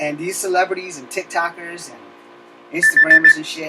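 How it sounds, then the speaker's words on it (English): An alarm breaks in near the end with a short burst of rapid, evenly spaced beeps over a steady tone, just after a stretch of a person talking. "that's my alarm, I'm sorry"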